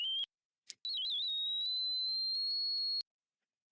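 A steady electronic sine wave tone generated in the Prism plugin holds at a high pitch for about two seconds after a brief clipped start, with a faint low wavering tone rising underneath.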